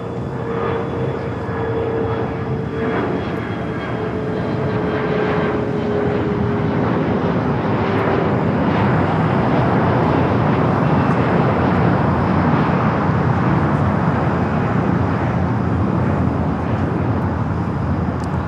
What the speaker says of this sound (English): This is a Hawaiian A330 flight coming up from Honolulu